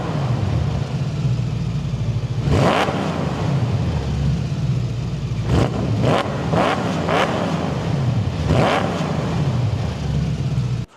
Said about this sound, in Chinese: 多多少少有点像 V8的那种声音啊，有点煮开水的声，呼噜呼噜呼噜呼噜的